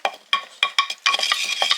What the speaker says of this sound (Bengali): এখন আস্তে আস্তে দুধ মেশাবো।